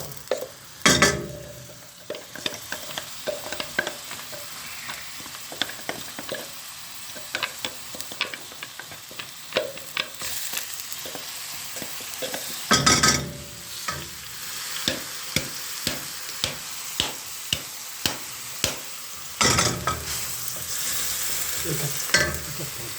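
Blended onion and shallot fry and sizzle steadily in a pan on the stove, with frequent sharp clicks and scrapes as they are stirred, plus a few louder clatters of utensils against the pan.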